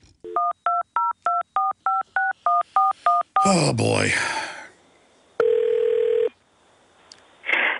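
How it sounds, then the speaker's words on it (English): A phone dials out on another line with about ten rapid, evenly spaced touch-tone beeps. A voice speaks briefly, then a loud burst of line noise and a long steady tone follow. "Dial them from another phone line."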